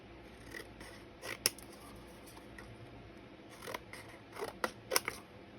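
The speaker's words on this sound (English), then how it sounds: "Just trim a little off the bottom." Scissors trim paper for a handmade garden journal, giving a few quiet, scattered snips and crisp cuts over a low room hush, with no talking.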